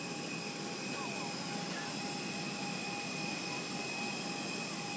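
A jet airliner's engines give a steady, loud, broadband roar with a high whine, heard up close while boarding a flight out of St. Kitts, with no pauses or changes.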